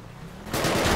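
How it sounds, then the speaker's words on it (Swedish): Sudden burst of rapid automatic gunfire in Grand Theft Auto, loud and dense, breaking in after a quieter half-second of low engine rumble and continuing steadily to the end. "vad mycket skott vi fick i ryggen här"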